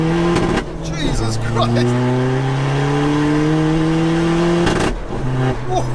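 A NOS-powered 600bhp 1.9 TDI Seat Ibiza pulls hard in second gear, its loud droning engine note climbing steadily from inside the cabin before a brief break, while a voice exclaims over it.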